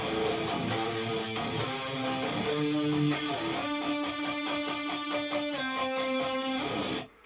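An electric guitar plays the chorus riff of a song, repeated picked notes and sliding octave chords, steady and clear with no voices.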